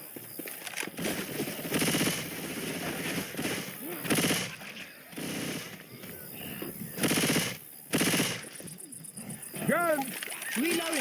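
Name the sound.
gunfire in video game Left 4 Dead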